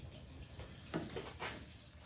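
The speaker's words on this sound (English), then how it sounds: "let's pour some gas back in here and see if we got any leaks or anything." Gasoline is poured into the tank of a Craftsman riding mower, a soft, steady liquid trickle heard close with a few louder splashes and no talking.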